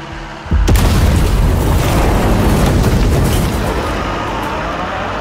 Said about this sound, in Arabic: فجر العبوه